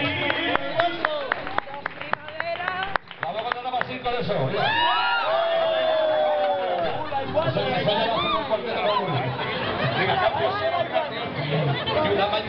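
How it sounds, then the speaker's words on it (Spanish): Live audience at a Spanish sung performance bursts into lively chatter, clapping and scattered cheers and whoops, a dense crowd roar sustained throughout with voices mixed in. "¡Un aplauso para el hombre!"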